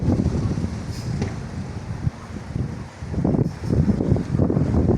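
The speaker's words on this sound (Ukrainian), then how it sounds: "Вже навіть звивається вітер." Gusty wind roars into the microphone ahead of an approaching thunderstorm in Chernivtsi, a steady low rumble with swelling gusts toward the end and no talk.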